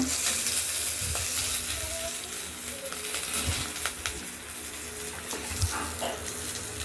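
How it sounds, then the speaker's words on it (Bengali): Cut bitter gourd and pumpkin frying in hot oil in a wok, giving a loud, close sizzle with bursts of stirring and scraping over a constant crackle. "উচ্ছে কুমড়ো ভাজা করব করে তেলটা হয়ে গেছে দিয়ে দিলাম"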